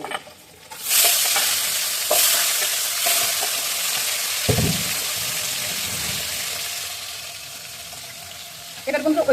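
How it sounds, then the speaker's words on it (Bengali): A fish head and vegetables fry in hot oil in a pan, giving a steady close sizzle with crackling pops and a few sharper spits, loud throughout, with no talking. "ওই যে মাথা তেলে করছে তো ওই জন্য ফুটফাট আওয়াজ করছে"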